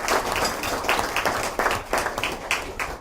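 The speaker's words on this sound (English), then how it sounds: "a round of applause for these fellows who've given outstanding service to the club" An audience at a Rotary Club gathering applauds the club's past presidents, making dense rhythmic clapping that surges and fades in waves for a few seconds.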